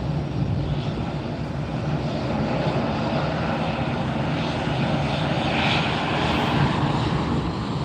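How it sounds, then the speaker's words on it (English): An Avianca Airbus A320-200 departs Fort Lauderdale for Bogota, its engines a steady, fairly loud broadband roar with no talk over it. "This is Avianca Flight 37, an Airbus 320-200, headed off to Bogota, Colombia."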